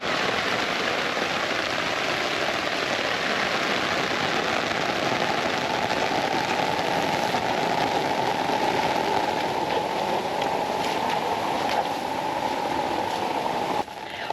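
Heavy rain pouring onto a tropical vegetable garden after a cyclone, a dense continuous hiss of drops striking leaves and ground, steady and fairly loud with no voices.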